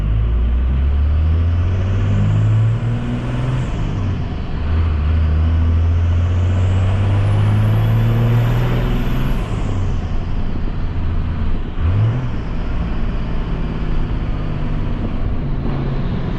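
White dually pickup with a VGT turbo pulling away in second gear while towing a trailer, its engine droning loudly and rising in pitch as it accelerates, with a turbo whistle climbing and falling over the engine, no talk.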